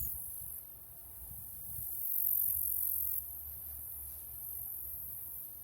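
Dense, steady chorus of crickets and other insects in a partly mowed field near an archery target, a continuous high shimmer swelling and fading slightly, with a low rumble of wind or distant noise underneath and no voices.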